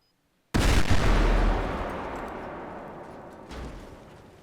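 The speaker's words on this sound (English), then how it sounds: "We'll put a timed bomb on here and give it 1 minute." A timed bomb detonates in FiveM (GTA V): a sudden, loud explosion that rumbles and slowly decays, with a second, smaller boom about three seconds later.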